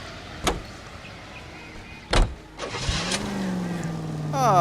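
Car door thumps and an engine starts and revs up in the crime game L.A. Noire, two sharp bangs followed by a rising engine drone, close and fairly loud.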